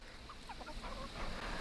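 A few soft clucks from splash Marans chickens come through faintly over a steady background hiss, scattered briefly in the middle.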